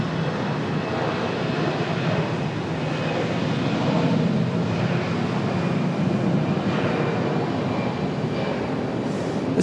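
An American Airlines Boeing 777 taxis toward the A terminal at Charlotte airport, its engines giving a steady, moderately loud droning rumble that holds evenly throughout with no voices.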